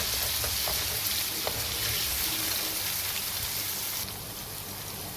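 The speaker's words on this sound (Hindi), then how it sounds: "आँच को धीमी रखिएगा क्योंकि हमारा ऑयल काफ़ी गर्म है, लहसुन जल ना जाए।" Steady, dense sizzling of something frying in hot oil, a constant crackly hiss with a few small pops, easing slightly toward the end.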